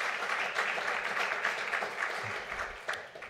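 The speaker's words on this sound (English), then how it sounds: "let's give them a round of applause as well" Audience applause at Howard University's spring 2022 State of the University Address, a steady, dense wash of many hands clapping through the whole stretch, fading slightly toward the end.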